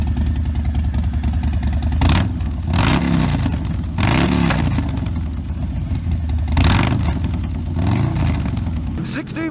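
A convoy of Harley-Davidson motorcycles, one a yellow Sportster, revs loudly and repeatedly close by, with deep rumbling engine surges rising and falling every couple of seconds.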